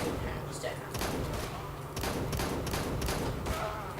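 Shotgun blasts in a video game, several loud booming shots spaced about a second apart under ongoing game noise, with a player talking over them.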